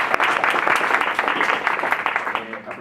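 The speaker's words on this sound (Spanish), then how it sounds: "por favor, un fuerte aplauso" Audience applause at an occupational therapy thesis presentation event, a dense, steady wash of many hands clapping at close range, continuous and fairly loud throughout.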